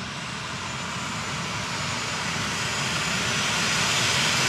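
An airplane approaching to land, its engine roar a steady broadband rush that swells slightly louder toward the end as it draws nearer, with no voices over it.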